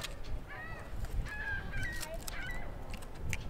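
Seagulls call at Coney Island beach on a February day, giving a few faint, scattered squawks over steady wind and background noise.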